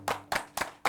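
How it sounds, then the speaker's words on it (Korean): Four sharp, separate hand claps from a small studio audience during a live music talk show, spaced evenly and close by with nothing else around them. "박수!"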